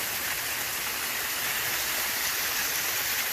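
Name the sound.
waterfall flowing on a hike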